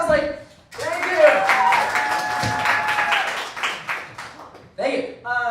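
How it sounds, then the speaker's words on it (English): Audience applause at an IdyTalks event at Idyllwild Arts welcomes a speaker on stage, a dense, steady burst of clapping lasting several seconds, with a cheer or voice rising over it before it fades and speech resumes. "You guys are going to give a big applause"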